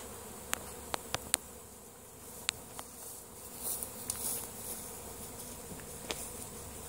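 A steady outdoor buzz of many angry honeybees being moved in a pasture, with occasional sharp clicks and knocks popping up over the drone.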